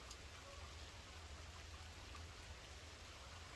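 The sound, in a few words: rain on metal roof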